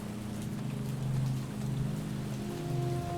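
Steady rain falls over a town in the video game How We Know We're Alive, a continuous hiss of drops under a low, sustained musical drone, with no one talking.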